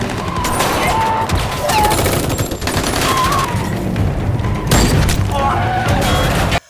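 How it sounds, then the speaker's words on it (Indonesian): A loud, sustained barrage of blasts and booming gunfire, dense and continuous, with heavy low rumble throughout. "Gun dan Go-hye mendengar ledakan hebat"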